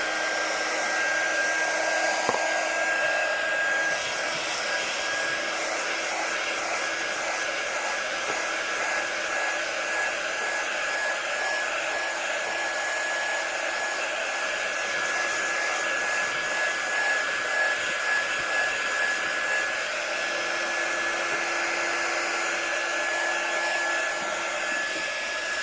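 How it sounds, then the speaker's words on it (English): A quick dry heat tool blows steadily over paint on a craft project, a metal tray, its loud, even whir running continuously for the whole stretch with no talk over it. "we're just going to take our tool here, our quick dry tool,"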